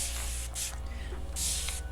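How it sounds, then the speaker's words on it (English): A spray bottle spritzes hair to dampen it, giving a few quick, close hissing bursts in a short sequence. "I just do a quick spritz so it's a little bit damp."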